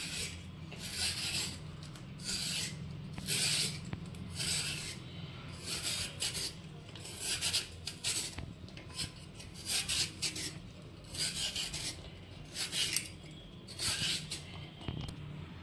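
Skin being peeled from a raw green banana for Odia banana pakoda, a series of soft rubbing, tearing rasps repeating close up in a quiet kitchen, with no talking.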